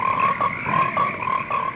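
Several frogs croak close by in a brief burst, giving repeated rasping calls in a quick, regular pulse over a steady bed of chorusing.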